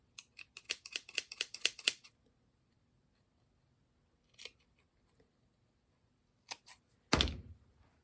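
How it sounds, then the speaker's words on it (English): Scissors snip through the fur of a monster puppet in a quick run of about a dozen crisp cuts, then a pause, a few isolated snips, and a final louder thump-like cut, all close and alone in a quiet room. "snip the fur."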